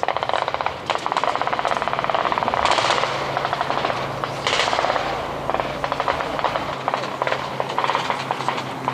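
Rapid bursts of gunfire ring out during a multinational military field exercise, sustained rattling volleys at moderate distance with echoing cracks and a low background rumble over nine seconds.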